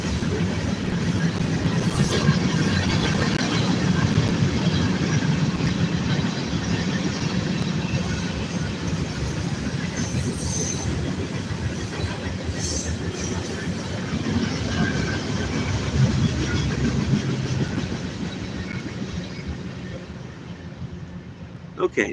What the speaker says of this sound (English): now that the freight train has gone by